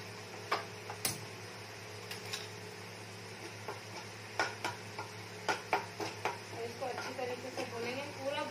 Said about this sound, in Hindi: कढ़ाई में तेल गरम है, बचे हुए तेल में हम डालेंगे चॉप गार्लिक